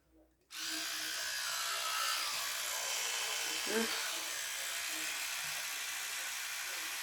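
An electric toothbrush switches on and runs with a steady high buzz while a child brushes teeth, loud and close, with a brief voice murmuring underneath.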